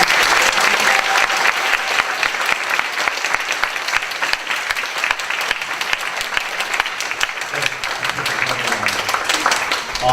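Audience at a school student research presentation applauds steadily, a dense, even burst of many hands clapping together that holds for about ten seconds at close range, with no talking over it.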